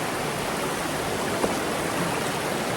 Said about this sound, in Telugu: అండ్ వాటర్ ఫ్లో కూడా చాలా గట్టిగా ఉంది